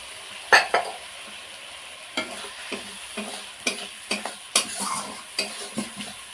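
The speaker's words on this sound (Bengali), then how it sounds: "কাজু বাদাম আর সমস্ত মশলা দিয়ে কষিয়ে নেওয়ার পরে" Cashews and ground spice paste with green chilli cooking in a pan for a vegetarian doi potol, a soft sizzle under repeated scraping stirs and spatula clinks at an uneven rhythm, close and fairly quiet.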